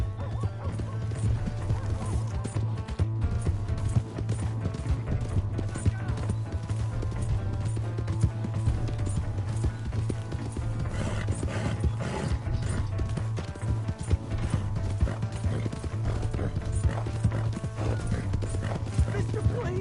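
Horse hooves clatter in a steady galloping rhythm in the video game Red Dead Redemption 2. Game effects and music run underneath throughout.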